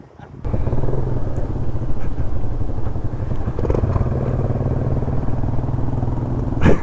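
Honda CT110 motorcycle engine starting among a group ride of bikes, a steady mid-pitched single-cylinder putter that catches quickly and idles loud and close, with faint voices in the background.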